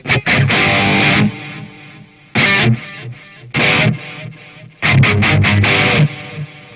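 Distorted metal guitar through a BlackStar HT1 amp with a Boss BD1 pedal and a 2012 Ibanez RG3, played with the amp's onboard echo delay: loud chugging bursts and riffs with gaps where the repeats trail off, no talking.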